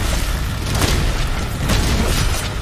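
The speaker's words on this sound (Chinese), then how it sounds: "有人放感谢的烟火" In-game fireworks set off by another player in Monster Hunter: World pop in a few broad, booming bursts over a constant dense background of game noise.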